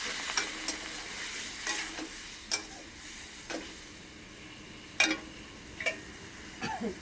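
A spatula stirs mango fry in a frying pan with a soft sizzle underneath, giving about eight scattered scraping strokes at irregular intervals, near and moderately loud, with no talking.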